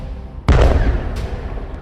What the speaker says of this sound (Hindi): यहां एक मिसाइल निकलती है और सीधे बॉर्डर पर खड़े इजराइल के मरकावा टैंक को फोड़ देती है।